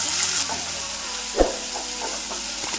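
Cumin seeds, garlic and ginger frying in a pan for a sambar, a soft steady sizzle with a few light stirring clicks and one sharper knock, close by and without talk.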